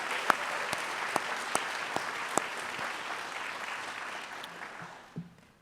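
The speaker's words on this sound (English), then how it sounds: "if we can just give them a round of applause" An audience at a heroes appreciation breakfast applauds veterans with steady clapping, some louder individual claps standing out, which fades away after about five seconds.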